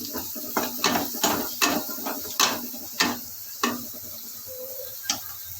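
Soya chaap masala is stirred and mixed in a pan, with about ten regular scraping strokes and a thick sizzle, close and clear with no talking.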